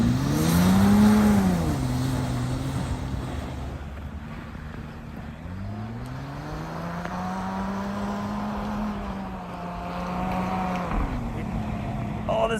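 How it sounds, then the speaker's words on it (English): Audi Q7 quattro all-wheel drive on snow tires clawing through deep snow, its engine droning loudly and rising and falling in pitch as it revs repeatedly. "Oh, this thing is clawing in!"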